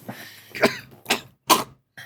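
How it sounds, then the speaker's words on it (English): A wounded man with a bullet wound in his chest coughing up blood, four harsh, close coughs spaced about half a second apart, with short pauses between them. "He is coughing up blood."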